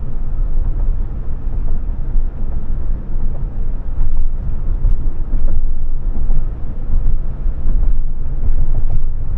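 Inside a moving Tesla Model S, steady low road rumble and tire noise fill the cabin. The rumble is loud and continuous with slight swells, and no one speaks.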